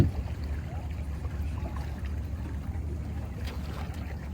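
Gentle, steady water wash and low rumble as a sailing dinghy glides slowly along, with soft lapping and no engine noise.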